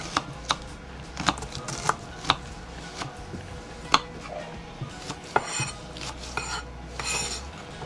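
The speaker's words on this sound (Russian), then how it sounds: "Мне кажется, кубиком легче всего лук резать." A knife dicing an onion on a cutting board, repeated crisp chops at a brisk, slightly uneven rhythm, close by with faint background hum.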